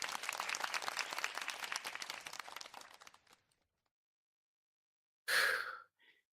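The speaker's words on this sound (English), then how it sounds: "So a round of applause to you all." A round of applause from a small audience, dense clapping that thins out and stops after about three seconds, followed by silence and a brief sigh-like breath near the end.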